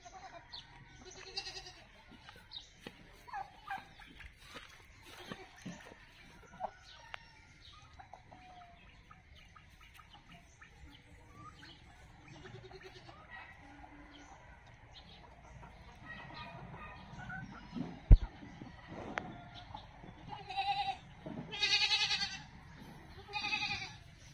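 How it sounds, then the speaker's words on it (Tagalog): Goats bleat repeatedly at irregular intervals, some calls near and louder, others distant, amid a quiet farmyard background with occasional other animal sounds. "Yan ang kambing binili natin"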